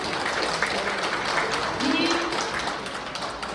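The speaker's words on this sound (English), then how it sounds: "Please, let's give him a round of applause." A gala audience at the Lil Guyana Icon Awards at Jericho Palace applauds host Dheeraj Gayaram, a moderate, steady patter of clapping mixed with room murmur and voices.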